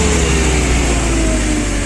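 A Nissan FG15 petrol forklift engine runs steadily at a close distance, giving a loud, even drone with a faint tonal whine and no talk over it.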